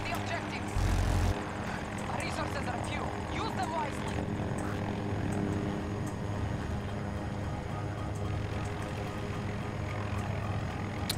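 Small attack helicopter in the video game Battlefield 2042, a continuous rotor and engine hum running under a voice speaking, with a short loud burst near the start.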